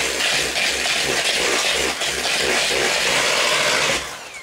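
A mixer whirs steadily through reduced-fat chocolate chip cookie dough, a close, loud continuous buzz with slight wavering pulses that runs for about four seconds before cutting off.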